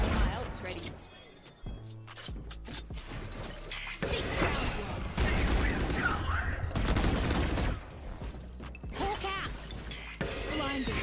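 Rapid bursts of gunfire and weapon mechanics in the tactical shooter Valorant, including shots at the agents Breach and Brim, crackle loudly and repeatedly over a dense game mix while a voice talks over them.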